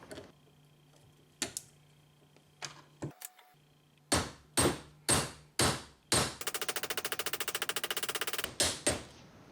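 Copper belt rivets are hammered on a Viking shield handle: sparse taps, then a series of sharp, loud blows followed by a rapid burst of quick strikes, close and alone.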